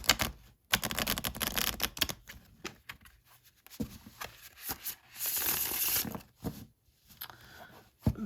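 Riffle shuffling of a tarot card deck: rapid fluttering bursts of cards riffling, repeated several times with short pauses between, close and crisp with no talking.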